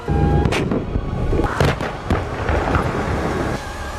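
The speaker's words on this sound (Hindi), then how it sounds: "अब लद्दाख में वज्र गरज रहा है।" A K9 Vajra self-propelled howitzer fires in Ladakh, sending booming blasts that crack and roll over a rumbling background, with a couple of sharp reports close together and no voices.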